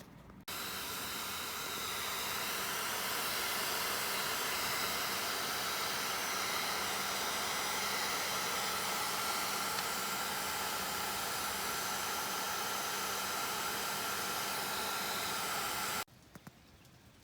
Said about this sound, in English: The next thing we're gonna do is use the heat gun and shrink down the